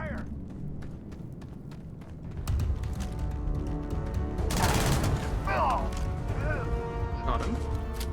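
Rapid gunfire in Starfield, a dense volley of shots crackling in bursts through an intense firefight, mixed with game effects while a person talks and exclaims over the top.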